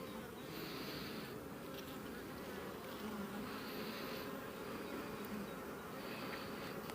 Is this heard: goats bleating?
no